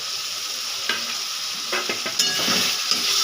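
Ginger paste, tomato and spices being stirred and fried in a pan for a red chicken curry, a steady sizzle broken by several close spatula scrapes and clinks.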